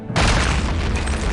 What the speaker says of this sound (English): it's grenades in a game made before, like, Havoc physics were a real thing